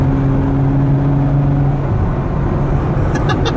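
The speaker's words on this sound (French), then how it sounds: "Je suis pas sûr que ce soit une voiture qui pétarade énormément." A Ferrari sports car engine roars steadily and loudly, its tone shifting partway through as it revs and accelerates, with no voices.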